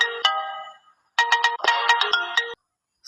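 A phone plays a custom name ringtone, a bright synthesized melodic tune with a sung or spoken-style phrase in two loud bursts separated by a short gap.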